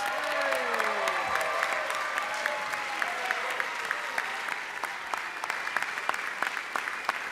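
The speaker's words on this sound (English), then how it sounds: "Let's give them one more round of applause, ladies and gentlemen" A legislative session audience gives guests one more round of applause, sharp individual claps over a crowd's steady clapping that carries on for several seconds, with a voice and some sliding tones fading near the start.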